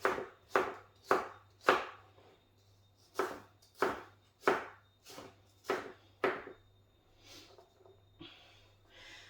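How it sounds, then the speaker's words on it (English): A knife chops diagonally through spring onion on a board, about eleven crisp, evenly spaced strokes at a steady rhythm, close and clear with no talk. "I'm just gonna cut it diagonally."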